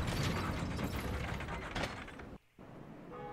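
A lever being pulled in Dark Souls, giving a loud grinding, ratcheting mechanical rumble that runs steadily for a couple of seconds, cuts off briefly, then resumes with a faint ringing tone.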